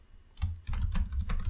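Brief, close-up clatter of keys being typed on a computer keyboard, a quick burst of clicks with a short pause in the middle.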